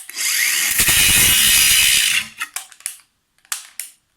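A cordless angle grinder whines loudly and steadily for about two seconds, then cuts out as its battery dies and sputters in a few short, weakening bursts.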